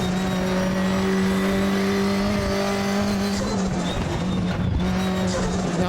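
Race car engine in the RaceRoom sim with a 5-speed gearbox, droning loud and steady at high revs throughout, with a brief shift dip near the end and a faint tire scrub underneath.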